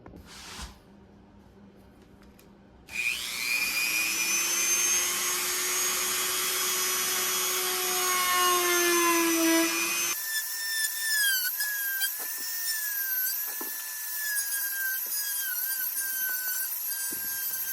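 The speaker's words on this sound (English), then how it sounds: "So now I just gotta sand the edges and make them all smooth and then attach it to the bait." A high-pitched rotary tool whines steadily as the edges of a plastic crankbait lip are sanded smooth, close and loud, its pitch dipping and shifting as it bites into the workpiece, with no talking.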